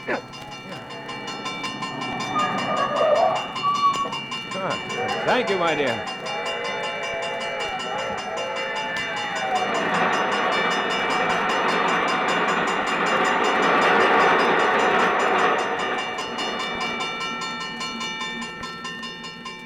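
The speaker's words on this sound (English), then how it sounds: "There's a train coming." Train passing, heard in an old radio suspense drama, with a crossing bell and rising rumble and clatter that swells to a loud peak, then fades out under brief dialogue.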